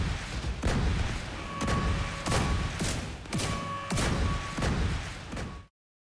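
Heavy video-game gunfire blasting at consoles during a Razorback boss encounter, several loud booming volleys spaced about a second apart with ringing tones between, then abrupt silence.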